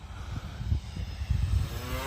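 A radio-controlled model airplane flies overhead: a high whining propeller and motor drone rises and falls slightly in pitch, steady and moderately loud over outdoor rumble, with no talking.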